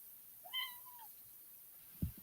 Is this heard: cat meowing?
yes